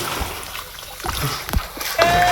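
Irregular splashes and sloshing water come from swimming in a village stream or pond, loud and close, with a few sharper slaps breaking through the flowing water.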